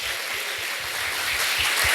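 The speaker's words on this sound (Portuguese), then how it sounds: "pode aplaudir o Senhor bem forte" A church congregation claps together during a worship service, a steady wash of applause that builds slightly toward the end, with no voices over it.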